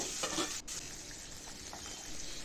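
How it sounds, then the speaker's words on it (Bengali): Pieces of katla fish shallow-frying in hot oil, giving a steady close sizzle with faint crackle and a brief stir partway through, with no talking. "সেই মাছটাকেও আমি সেমভাবে হালকা ভেজে তুলে নেব"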